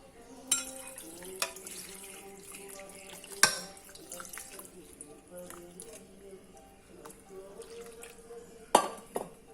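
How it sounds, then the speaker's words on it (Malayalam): Water splashes as half-cooked potato pieces for hash browns drop into a bowl of cold water, with clinks of dishes and a few sharper knocks, while someone talks over it. "ഇനി ഇത് നമുക്ക് തണുത്ത വെള്ളത്തിലേക്ക് ഇടാം."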